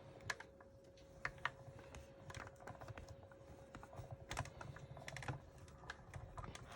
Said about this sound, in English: We're gonna place our die cut machine. We're gonna start cranking this through.